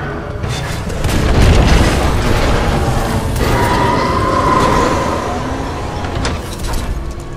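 Explosions in the shooter game Titanfall 2 go off as a chain of heavy, deep booms rolling over each other, swelling twice and leaving a rumbling tail.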